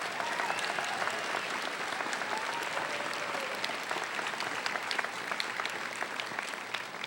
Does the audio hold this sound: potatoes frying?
no